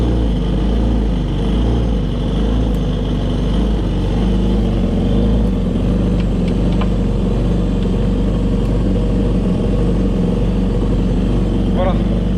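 A Kawasaki STX 15F jet ski engine idles steadily while being run for winterizing, a loud, continuous close-up rumble with slight fluctuations and faint voices under it.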